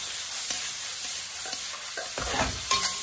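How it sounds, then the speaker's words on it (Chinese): Zucchini stir-fried in a wok over high heat, a spoon scraping and tossing it in steady repeated strokes over a loud continuous sizzle, close and with no talking. "再用勺子不停地翻炒，这样才能锁住西葫芦里面的水分。"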